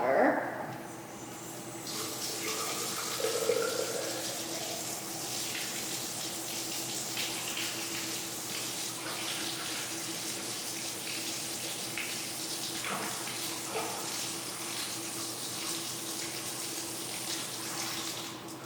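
Cold tap water runs steadily from a faucet over a glass test tube in a chemistry lab, a continuous broadband rush with brief clatter near the start, lasting throughout with no talk.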